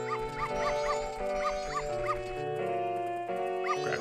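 Dog barking from Zelda: Majora's Mask 3D during a dog race, a string of short yips and barks over game music.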